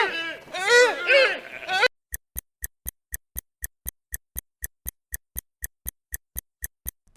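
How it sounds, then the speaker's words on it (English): A deer calls in a short burst of wavering, voice-like bleats lasting about two seconds, followed by a steady run of quick, even clock ticks from a countdown timer. "Time's up It's a deer"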